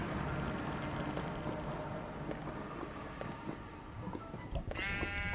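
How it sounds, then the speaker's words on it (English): A sheep in modded Minecraft gives a clear bleat near the end, over a steady windy background hiss, with no talk. "Why is there a sheep here?"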